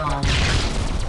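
A mega bomb goes off in the shoot-'em-up game Skyforce, a dense, loud booming crash that fills the whole short moment with rumbling noise and a falling whoosh.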